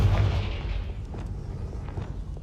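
Confringo blasting spell exploding in Hogwarts Legacy, a single heavy boom at the start that decays into a rumbling, crackling tail, loud and close with no talk over it.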